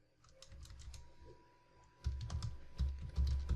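Typing PHP code on a computer keyboard: a steady run of close, crisp key clicks that grows louder and heavier midway, alone without talk.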